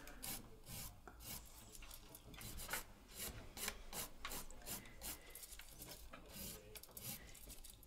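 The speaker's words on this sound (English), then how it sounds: "I'm going to work with the 80 grit file and scratch" An 80 grit file scratches the surface of an acrylic nail in rapid back-and-forth strokes, a faint, steady rasp repeated continuously with no talking.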